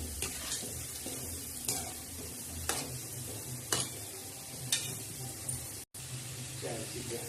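Wheat flour modaks filled with coconut, poppy seeds, cashews and almonds fry in oil with a soft, steady sizzle, while regular spoon taps and clinks recur roughly every second; faint and close, with a brief dropout near the end.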